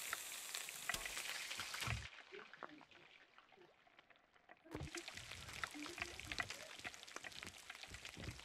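Drumsticks sizzle in a pan in Sea of Thieves, a bright frying hiss that cuts off abruptly, leaves a quiet gap, then resumes just as loud, with a voice talking faintly underneath.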